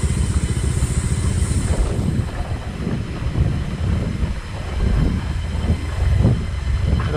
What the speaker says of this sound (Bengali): আমরা তো ডাইরেক্ট বাইক নিয়েই চলে যাবো।